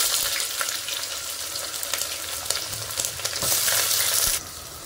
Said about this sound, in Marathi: आता टाकू मिरची। आता टाकते कांदा।